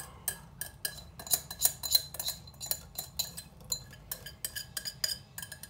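A utensil stirring pastry cream in a saucepan, with irregular light metallic clinks and scrapes close by over a soft low background, no talking.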